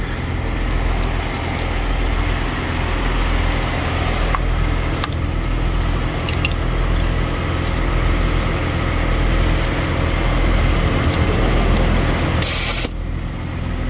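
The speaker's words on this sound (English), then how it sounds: "runs over here so I can put air in my tire" Steady loud hiss of compressed air from a semi truck's glad hand, run through a hose to inflate a tire, continuous and close with small clicks, cutting off briefly near the end.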